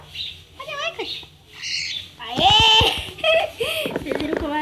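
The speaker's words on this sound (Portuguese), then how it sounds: "Se vocês ouvirem algum barulho, a passarinha que tá aqui do lado, fala oi, filha." Pet bird chirping and squawking close by, sharp varied calls and squeaks in quick bursts, mixed with a voice talking.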